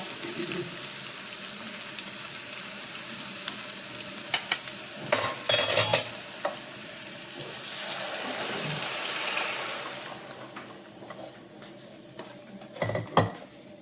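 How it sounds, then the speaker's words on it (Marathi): Gram flour batter for pithla stirred in a hot, sizzling kadhai, with scraping, clinks of a utensil against metal, and a surge of frying hiss midway. "आता हे कालवलेलं जे पीठ आहे ते मी आता त्या कढईमध्ये घालणार"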